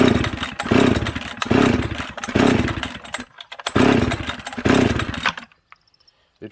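A hybrid chainsaw built from a Husqvarna 266 and a Jonsered 630 fires in loud, close bursts: several rough engine catches that sputter and die, then one final brief run before it cuts out to near silence.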